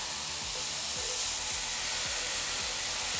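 A tomato mixture hits toasting rice in a hot pan for Mexican shrimp rice, giving a steady, loud, hissing sizzle that carries on without a break.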